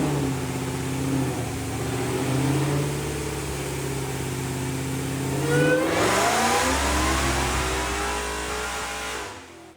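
A Dodge Demon 170 runs on a dyno, its engine revving loudly with steady rising pitch sweeps that climb sharply past mid-clip, with no talk and a close, continuous roar until it cuts out at the end.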